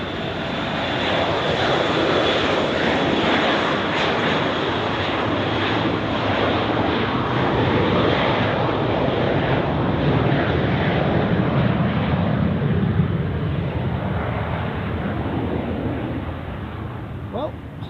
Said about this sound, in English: now this Dassault Falcon, which you have seen before, has received takeoff clearance, so let's see how much runway it uses